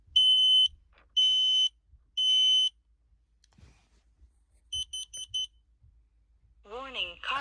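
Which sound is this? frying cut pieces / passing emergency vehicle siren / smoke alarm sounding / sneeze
smoke alarm sounding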